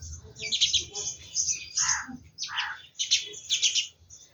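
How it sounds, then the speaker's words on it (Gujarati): Sparrows chirp in quick bursts of bright, high twittering, close by and fairly lively, with brief gaps between calls, on a morning in a Gir village. "ચકલીઓ ચી ચી કરે છે"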